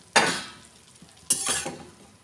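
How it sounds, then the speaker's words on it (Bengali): Bread sizzles in butter in a pan on a gas stove, with two loud bursts of frying, each flaring sharply and then fading, with no talking. "আমি এরপর এই পাউরুটিটা ভেজে নেব"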